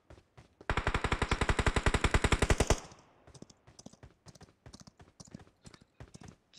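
Rapid automatic gunfire in the mobile battle royale game BGMI rattles off in a fast, even burst of about two seconds, followed by scattered lighter clicks and taps.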